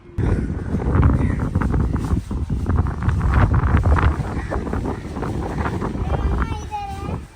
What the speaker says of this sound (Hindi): छत पे तो बहुत तेज हवा चली हुई है।